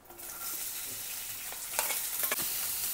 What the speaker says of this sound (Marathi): तेल तापलं की कांदा घालायचा।